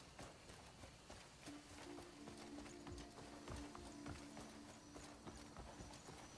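Hooves clip-clop in a steady trotting rhythm in the video game Crimson Desert, fairly close, with a faint tonal hum underneath through the middle.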